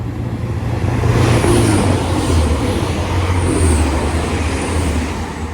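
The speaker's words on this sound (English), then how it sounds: "is a class 185 going to Liverpool Line Street." A Class 185 train passes at Rainhill on its way to Liverpool Lime Street. It makes a steady, loud, close rumble and roar of engine and wheels that holds for several seconds with no talking.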